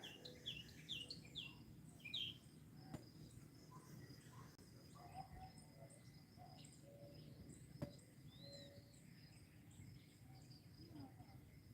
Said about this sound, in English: I'm gonna let you hear the birds for a second.